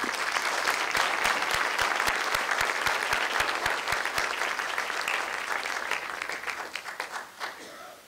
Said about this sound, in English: give Mr. Katz a round of applause